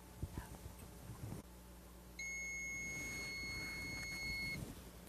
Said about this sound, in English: Once the timer sounds,